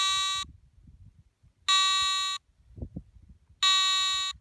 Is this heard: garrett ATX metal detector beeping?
yes